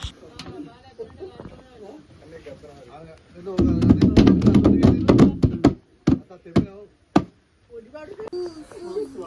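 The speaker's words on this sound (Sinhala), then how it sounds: "දැක්කනේ රබන් ගැහුවා." Rabana frame drum struck by hand at a family outing in Sri Lanka, a dense burst of loud, rapid thumps and slaps in the middle, with sharp single hits after it and people talking before and around the drumming.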